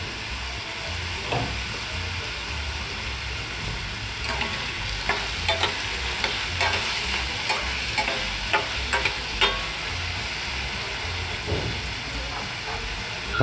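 Eggplant fries in hot oil in a pan with a loud, constant sizzle and hiss, broken by repeated scraping and clacking strokes of a spatula stirring the pieces, with no one speaking.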